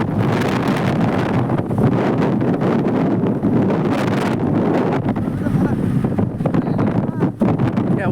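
Strong gusty wind from Cyclone Remal roars continuously over a village, buffeting and rumbling throughout, with water and a boat's movement faintly beneath.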